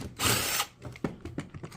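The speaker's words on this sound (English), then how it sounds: "Get you an impact with the proper socket." An impact wrench with a socket zips bolts out of the bottom of a scrap water meter: a short, loud, close burst followed by a few clanks and rattles of metal.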